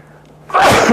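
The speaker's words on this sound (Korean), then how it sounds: "재채기 하나 올라오고 그러네" A single loud, sudden sneeze from a man during a Korean real-estate tax lecture, a sharp burst after a quiet moment, close to the microphone.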